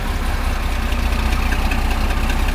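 A John Deere 4230 tractor engine running in reverse at a steady low rumble nearby, chugging evenly with a constant vibrating drone throughout.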